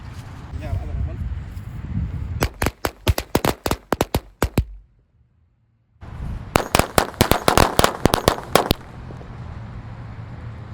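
Two rapid bursts of sharp bangs from an XXL Corsair match firecracker, crackling in quick irregular succession, separated by a brief silence; loud and close.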